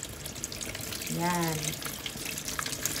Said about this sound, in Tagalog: wash your vegetables, fruits, or your meat in running water